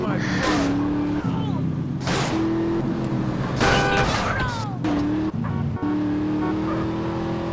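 Car engine in GTA San Andreas Definitive Edition during a pit maneuver chase, revs rising and falling through gear changes with brief squeals and a couple of sharp knocks, while someone talks over it.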